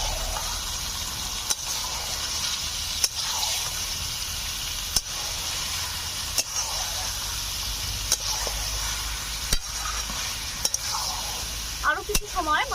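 Chicken and fried potatoes stir-fried together in a pan, a continuous soft sizzle punctuated by sharp spatula knocks every second or two, with faint voice-like sounds near the end.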